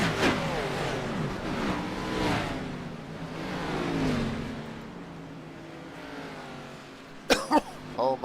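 Race cars roar around the Talladega track from an on-board view, their engine drone rising and falling, with a few sharp bangs and bursts near the end.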